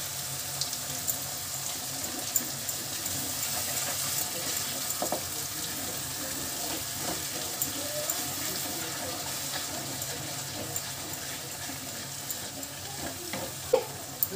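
Curry leaves hit hot oil in a pan for a besan curry, crackling in a steady, fairly quiet sizzle that carries on for several seconds, dotted with small pops and clicks, without speech.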